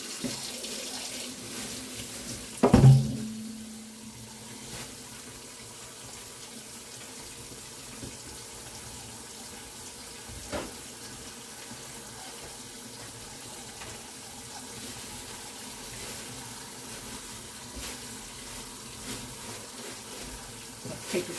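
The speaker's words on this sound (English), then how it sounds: "I'm going to take it over to the sink and wash it" A deep fryer basket is washed under a running sink tap, with a steady hiss of flowing water, a brief clatter near the start, and light clinks throughout.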